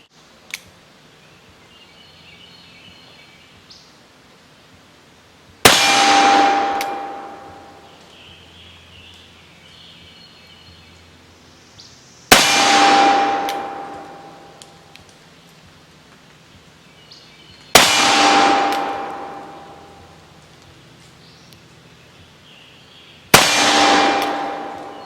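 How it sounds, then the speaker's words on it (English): Conical bullets fired from a Pietta 1861 Navy black-powder revolver strike a steel target. Four sharp shot-and-clang impacts come at intervals of about six seconds, each one ringing out and fading, with quiet between them. "let's see how Kaido's conical bullets do on Steel Steve"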